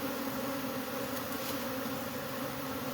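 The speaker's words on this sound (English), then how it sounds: "they vibrate their body to create that buzzing effect" Bees buzz at a hive inside a cable box, a dense, steady drone of many insects heard close up with no talk.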